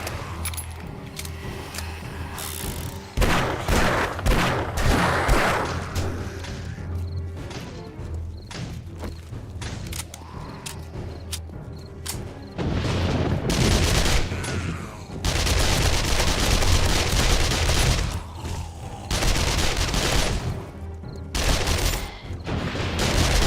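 Rapid gunfire rattles in bursts during a zombie fight in 7 Days to Die, loud sustained volleys with sharp cracks and clattering, separated by quieter stretches of game noise.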